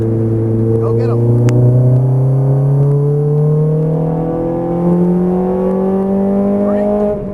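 Ferrari F430 Scuderia racing on a track, its engine holding a loud, steady high-pitched drone that climbs gradually in pitch as it accelerates through the gears, close and continuous throughout.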